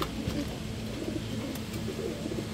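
Low, soft cooing of pigeons murmurs continuously over a steady background hum, the calls overlapping at close range.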